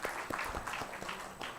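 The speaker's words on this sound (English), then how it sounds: "Please welcome him with a round of applause" Audience applause welcoming a speaker at a literature festival session, fairly quiet and sparse, with a handful of distinct claps standing out in a loose, uneven rhythm.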